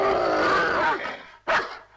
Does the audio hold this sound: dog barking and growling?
yes